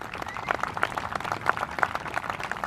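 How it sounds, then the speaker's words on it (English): Scattered applause from a sports crowd greeting a player from the China team on court, faint and uneven with individual claps standing out over a murmuring background. "can we keep that round of applause going for our first player, Ha Lai Zhang."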